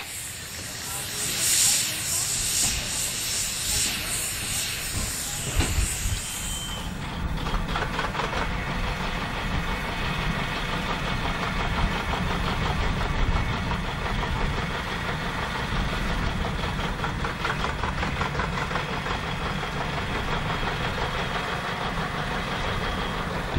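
A steam locomotive on a narrow-gauge field railway hisses loudly with a broad, continuous rush of steam, settling into a steady running rumble with rhythmic chuffing texture throughout.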